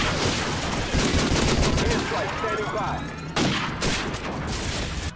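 Desert Eagle pistol shots in a Call of Duty match, a dense run of loud gunfire bursts throughout with a sharp fresh volley near the end, under busy game noise.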